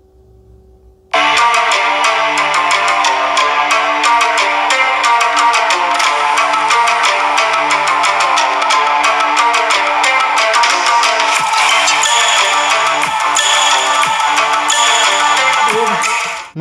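Music plays continuously from an iPhone 12 speaker, bright and somewhat thin, starting abruptly after a quiet second and running steadily to the end.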